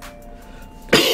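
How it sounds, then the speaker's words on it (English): A single short dry cough from a man, sudden and close, after a quiet stretch. "I got like a little cough, man. Like a little dry cough."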